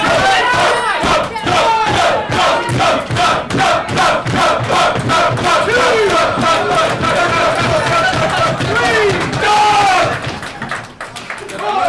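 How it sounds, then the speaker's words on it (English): A wrestling crowd cheers, shouts and claps for Doug Williams during his match against Joseph Conners, a dense, steady roar of voices with rhythmic clapping that fades slightly near the end. "Crowd getting behind Doug Williams."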